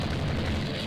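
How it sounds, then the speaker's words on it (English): A torpedo strikes a ship in the naval strategy game Rule the Waves 3, a single loud, broad, rumbling boom that fills the whole short moment. "Enemy ship unidentified is hit by torpedo."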